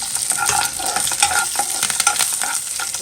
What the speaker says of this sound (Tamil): இப்போ நம்ம வந்து கருவேப்பிலை கொஞ்சம் போட்டுக்கலாம். போட்டு ஒரே ஒரு வரமிளகாய் இப்படி தாளிச்சிக்கலாம்.